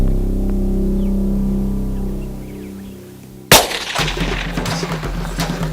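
A single loud hunting rifle shot fired at a zebra from about 250 yards in South African bush, a sharp crack after a quiet lead-in, followed by a ringing, rumbling tail and handling noise.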